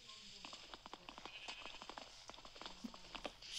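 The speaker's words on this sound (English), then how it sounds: "Shut up, sheep. Stop trying to bring me to you." Sheep bleat in a video game, short calls scattered over a steady run of clicking, tapping game sounds at moderate level, with no talking.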